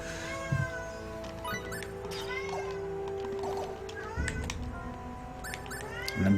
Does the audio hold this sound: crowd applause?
no